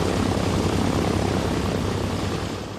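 A PBY Catalina flying boat on an ocean patrol drones with a loud, steady propeller-engine roar that fades slightly toward the end, with no voices.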